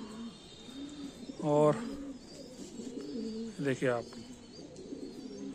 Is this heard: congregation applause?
no